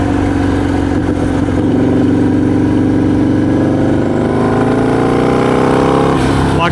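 A bagger motorcycle engine rumbles loud and close, its pitch climbing steadily through the gears as it pulls, with no voices over it.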